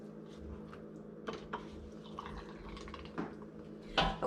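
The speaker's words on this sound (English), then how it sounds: "now I'm filling up all of my jars, and I'm gonna get the water, the juice, within 1 inch to that the neck there." Water and pork juice poured into canning jars for preserving pork shoulder, soft trickles and drips with small clinks of glass, quiet and close, no talking.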